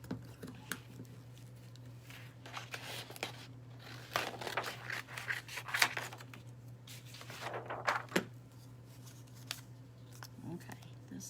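Scissors snip repeatedly around deer-patterned scrapbook paper, a close series of short crisp cuts and paper rustles at an uneven pace over a steady low hum.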